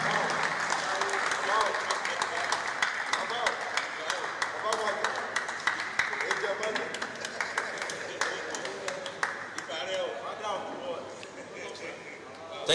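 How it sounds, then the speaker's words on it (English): Sustained clapping from an audience at a Pest Control Association of Nigeria panel session, dense and even before thinning toward the end, with speech heard over the applause. "Please, let's keep clapping"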